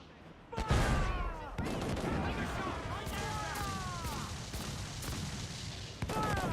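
Ship cannons fire in Assassin's Creed 4 Black Flag, a loud rapid fusillade of booming shots with crashing impacts and ringing tails, sustained for several seconds in a naval battle.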